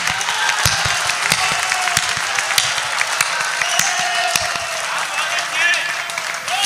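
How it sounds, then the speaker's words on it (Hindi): Audience applause at a live Hindi poetry recital, a steady wash of many hands clapping throughout, fairly loud and continuous with scattered sharper claps. "इतनी बढ़िया पंक्ति के लिए इतनी कम तालियां नहीं चलेगी।"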